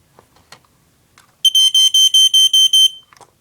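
A household smoke detector under test sounds a quick series of about seven loud, shrill electronic beeps in an even rhythm, close to the microphone, with faint handling noise before and after.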